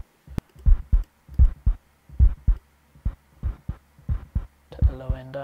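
A recorded human heartbeat, processed with distortion and EQ, thumps in steady lub-dub pairs, deep and booming, with a heavy distorted tone and a brief droning hum near the end.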